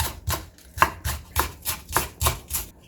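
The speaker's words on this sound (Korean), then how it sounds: "작은 대파 절반도 송송 썰어주고" A knife thinly slicing half a small green onion on a cutting board, steady rhythmic chops about every third of a second, crisp and close with no talking.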